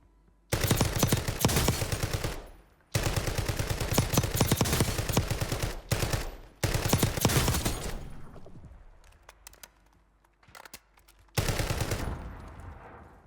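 Automatic weapon fire in the video game Warzone, long rapid bursts of gunfire, loud and close, separated by short gaps, with the last bursts tailing off before a final burst.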